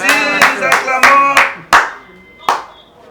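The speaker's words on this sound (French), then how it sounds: "nous acclamons" Crowd at a church aid event in Congo claps and cheers in several loud bursts of applause, each swelling and fading, with faint voices mixed in.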